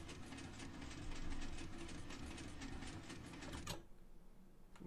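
Minecraft piston flying machine elevator moving inside a small tower, giving off a fast, steady mechanical clatter of repeated thumps that stops abruptly near the end with a sharp click, leaving quieter ambience.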